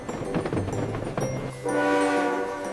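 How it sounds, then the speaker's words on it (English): A Swiss mountain train pulls away, with low rumbling and clatter of the rail cars giving way to a loud, sustained rising tone as it gathers speed, close by and without talk. "This train travels through famous Swiss mountains."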